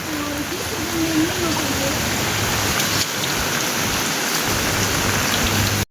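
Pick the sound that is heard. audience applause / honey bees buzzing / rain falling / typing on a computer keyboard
rain falling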